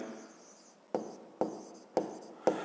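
Pen scratches across paper in short bursts while a math exercise is worked by hand, with four distinct tapping strokes in a quiet room.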